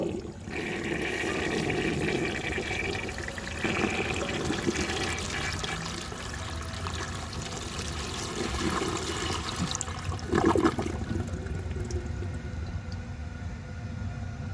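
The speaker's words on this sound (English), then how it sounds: "I'm going to go ahead and give that a second flush." A 1930 Eljer Sanus toilet flushes steadily and loudly, the rushing water and gurgle running throughout without any talking, with a stronger surge near the end as it struggles to clear a harder load.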